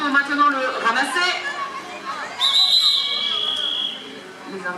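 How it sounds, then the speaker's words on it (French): A sustained referee's whistle blast rings out at a horseball match, cutting through busy crowd chatter and nearby voices after shorter whistle chirps earlier on. "Les arbitres sifflent."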